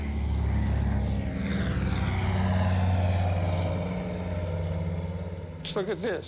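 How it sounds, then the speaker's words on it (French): A propeller seaplane drones loudly and steadily overhead, its engine tone shifting slightly as it passes, heard alone without talk until a brief voice-like burst near the end. "l'enquête a conclu qu'il s'agissait d'un hydravion"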